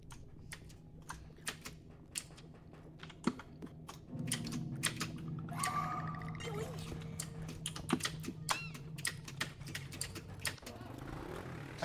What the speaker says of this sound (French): Mais c'est le clavier de qui qu'on entend là, c'est infernal.